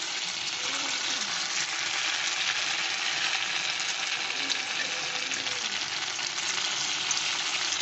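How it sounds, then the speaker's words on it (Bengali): Paneer pieces dusted with a little cornflour fry in white oil with a dense, continuous sizzle, close and even, with no talking. "পনিরের মধ্যে আমি একটু সামান্য কর্নফ্লাওয়ার ছড়িয়ে ভেজে নিচ্ছি।"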